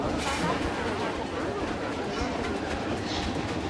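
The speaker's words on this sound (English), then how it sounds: "Oh yeah, here comes the train." A roller coaster train in the Planet Coaster 2 game rumbles into the station, a continuous rolling, clattering track noise at steady loudness, with a voice talking over it.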